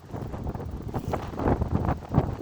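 Wind gusts buffet the microphone in low, rumbling surges that rise and fall unevenly, with no voices present.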